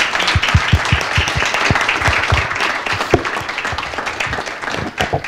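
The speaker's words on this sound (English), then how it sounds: "Can I have a round of applause for the panelists we have up here?" Hearty applause from an audience at a university honors colloquium panel, many close hands clapping in a dense, steady patter with some distinct individual claps, sustained throughout at full strength.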